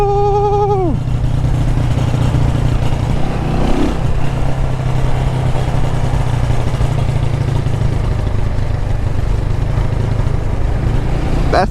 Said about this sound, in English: This bike is making good compression and good back pressure as well.